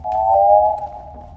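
A sustained mechanical tonal whine, loud and steady, holds for about a second then fades, with a faint low rumble underneath.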